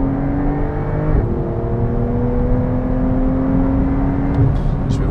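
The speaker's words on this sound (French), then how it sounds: "Là je vais vous refaire une petite accélération." A Porsche 911 Targa 4 (992) accelerating from inside the cabin, a loud steady engine drone rising in pitch with a brief shift near the start and continuous road roar beneath.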